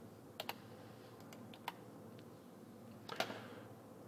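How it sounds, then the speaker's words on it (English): Computer keyboard keys being pressed at a desk, a few faint, scattered clicks over a quiet room, ending with a small cluster of taps, no talk. "I'm going to click it and I'm going to press the delete button, not backspace."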